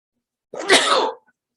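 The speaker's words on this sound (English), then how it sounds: "I'm going to sneeze any moment." One short, sharp sneeze bursts out close up against silence.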